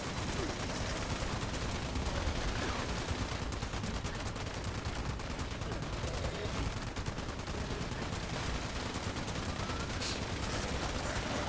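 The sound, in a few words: weapon firing in the video game Fallout 76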